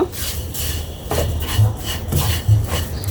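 Vermicelli is fried and stirred in hot ghee in a pan, giving close, rhythmic scraping and rubbing strokes roughly every half second, with soft sizzle beneath.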